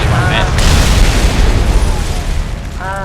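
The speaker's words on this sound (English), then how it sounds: "there goes the rest of my bombs" Bombs dropped from a B5N2 bomber explode in War Thunder as a loud, close rolling boom with crackling debris, fading slowly, while a voice talks over the game noise.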